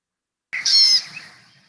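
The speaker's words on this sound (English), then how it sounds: "Here is an example of a juvenile pika making a short call." A juvenile American pika gives one brief, high-pitched squeaky call, close and clear, fading quickly into silence.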